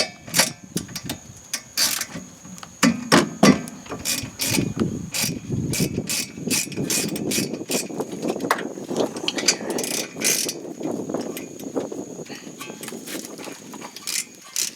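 A ratchet with a 7mm hex Allen bit loosens rear brake bolts on a 2010 Mazda 3, giving repeated close clicking pawl sounds in uneven bursts with short clanks between.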